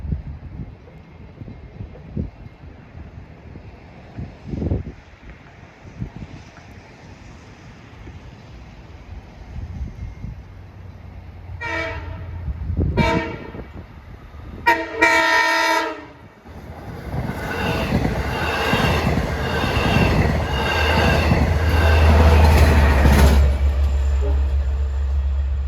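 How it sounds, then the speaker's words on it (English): A Long Island Rail Road train on the Montauk Branch rolls in through a nor'easter snowstorm, sounding several loud horn blasts before its wheels and cars rumble past, building to a heavy close roar. "here comes train 69 in the new Long Island Railroad renumbering nomenclature"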